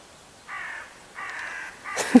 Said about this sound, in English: All right then, and the crows.